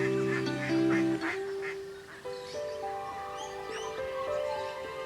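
Indian runner ducks kept in a garden for snail control give a short burst of close quacking, followed by bright birdsong chirps in the background.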